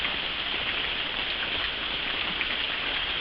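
Cold rain falling steadily outdoors, a dense, even hiss of drops striking surfaces with no breaks or changes in level and no voices.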